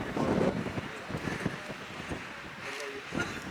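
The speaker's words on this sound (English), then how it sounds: "It is windy and cold." Gusty wind buffets the microphone on a cold mountain summit at Clingmans Dome, a rough rumbling roar under someone speaking close by.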